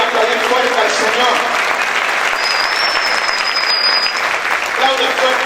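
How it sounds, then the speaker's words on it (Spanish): Church congregation clapping loudly and continuously for the Lord, a thick sustained roar of many hands with voices faintly mixed in beneath the clapping. "¿Cuántos pueden aplaudir fuerte al Señor?"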